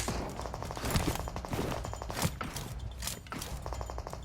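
Gunfire in the mobile battle royale game PUBG Mobile, a rapid string of rifle shots in bursts with heavy low thumps, fairly distant and moderate in level, no talking over it.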